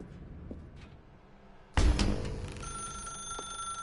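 A telephone starts ringing suddenly in The Stanley Parable video game, a loud, close electronic ring with a steady high tone that carries on to the end after a quiet stretch.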